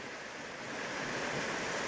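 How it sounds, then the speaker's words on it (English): Lawrence Brook, running full with water, gives off a faint, steady wash of broadband rushing noise near Doane's Falls in Massachusetts. The sound is even and unbroken, with no voices. "And this is the brook right here. It's got plenty of water."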